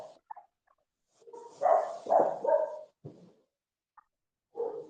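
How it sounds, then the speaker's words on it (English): A dog barks over a video call microphone during an online early childhood education class, giving a few close, loud barks and yelps in a cluster, then a brief pause before another bark. "The person whose dog is barking, please put you in timeout, put your mic on mute."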